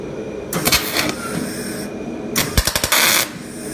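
Welding 10mm round bar stems onto forest spikes in a workshop, with two bursts of harsh crackling buzz, the second broken into rapid sputtering pulses, separated by a quieter gap.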